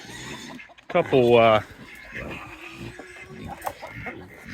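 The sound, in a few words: buff Orpington chickens clucking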